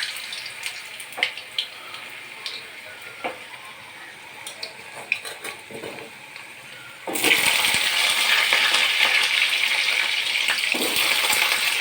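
Potatoes frying in hot oil, starting as scattered light pops and crackles, then jumping to a loud, dense, continuous sizzle for the second half.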